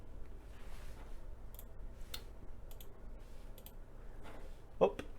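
Computer mouse right-clicks while working in Photoshop, a few sharp, faint, isolated clicks spaced irregularly over a quiet background.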